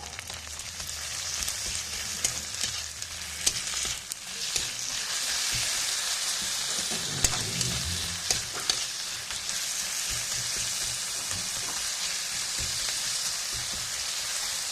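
Garlic frying in a little oil with golden-brown onions for ghughni, a constant bright sizzle close by with stirring scrapes and soft knocks throughout and no voices.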